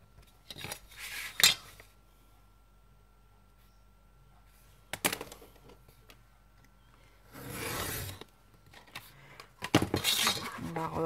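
Scissors snipping through paper while making a vintage loaded envelope, a few short separate cuts with quiet pauses and a longer rasping stretch, close up with no voices.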